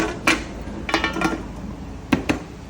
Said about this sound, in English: Now we're gonna lid it up like that.